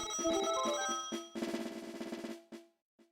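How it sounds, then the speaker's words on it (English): A phone rings with an incoming call, a melodic ringtone playing loudly in repeated bursts before cutting off into short final notes. "Crunchy's calling me on my phone"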